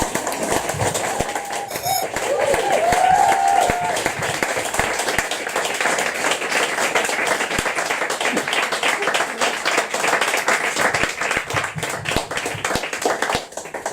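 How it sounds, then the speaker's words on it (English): Audience applause after a poetry reading, a steady, dense wash of many hands clapping that fills the room and continues without a break for the whole stretch. "give her another big round of applause"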